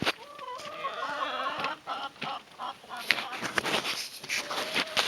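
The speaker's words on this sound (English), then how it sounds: "Gotta let the chickens out." Chickens being let out of their coop on a frosty morning, clucking and squawking nearby in overlapping bursts, with scratchy rustling and occasional louder calls throughout.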